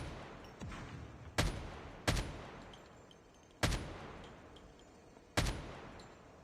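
Four spaced, loud single gunshots from an unsuppressed AK47 in a video game, fired at an irregular pace with short decaying tails, alone with no talk.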